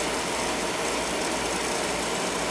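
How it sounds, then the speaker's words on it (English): A basement boiler's power vent fan runs wide open, a constant dense roaring whir with no breaks, close and steady throughout. "The power vent is running wide open."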